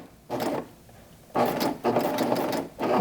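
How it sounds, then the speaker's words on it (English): A sewing machine stitches fabric for a gathered skirt in three short bursts of close, rapid mechanical whirring and clatter, separated by brief pauses. "Lower my presser foot and do a few stitches"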